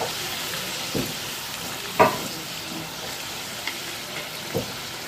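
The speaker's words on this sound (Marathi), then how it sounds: "सोनेरी कलर येईपर्यंत आपण करंज्या तळून घ्यायच्या आहेत" Karanji pastries deep-frying in oil over a low flame, a continuous bubbling sizzle with a few sharp clinks and scrapes of a utensil.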